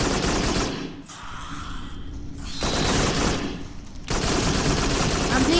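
Rapid automatic gunfire from a VR shooter game crackles in dense, sustained bursts with short breaks between them, loud and close throughout.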